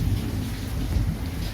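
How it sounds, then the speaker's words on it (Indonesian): Heavy night rain falling outside, a dense, continuous downpour with deep rumbling undertones, loud and steady over a short stretch with no voices. "di luar hujan lebat bisa terdengar"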